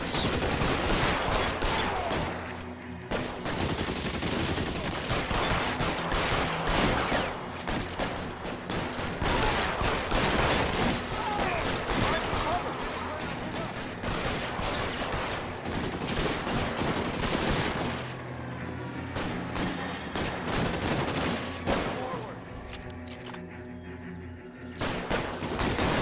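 Machine gun fire in the 1940s Los Angeles crime game L.A. Noire during a Vice Division shootout, sustained dense bursts of automatic gunfire crackling almost without pause, loud and close, with occasional heavier booms.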